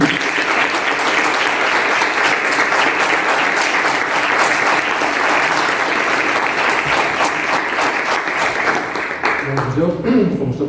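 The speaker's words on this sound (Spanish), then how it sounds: "para que empiece con ánimo, pues un aplauso" Sustained applause from an audience at a talk on the Comuneros of Castile, steady dense clapping that holds for about ten seconds, then fades as a voice starts speaking near the end.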